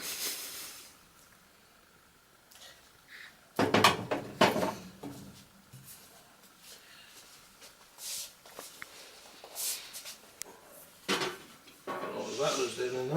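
A grill pan taken out and handled in a home kitchen while making Welsh rarebit: metallic clanks and scrapes in short bursts, close by, with a drawer-like thud and quieter handling noises between them.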